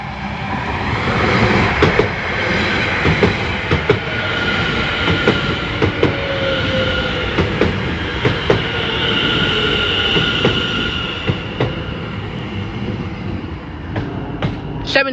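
Greater Anglia class 720 unit 720589 pulls into Cheshunt station bound for Stratford, its close, loud running noise carrying squealing wheels and a regular clickety-clack of rail joints throughout.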